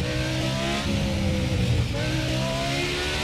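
A historic Formula 1 car engine in the racing game F1 2017 revs hard and continuously, a loud, dense, high-pitched whine that rises and shifts pitch through the gears, with no talking.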